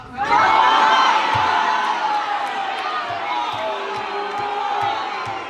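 A large crowd of voters at a town hall meeting with a Republican Congressman shouts, yells and boos loudly and continuously, a dense roar of raised voices filling the room.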